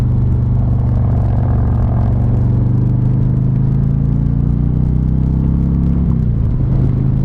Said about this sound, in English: Never thought I would be on a Road Glide, man, as my first Harley.